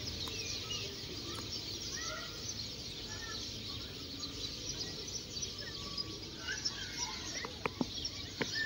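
Birds chirp and call among trees in a quiet outdoor setting, with scattered short tweets and calls at moderate distance over a soft ambient background.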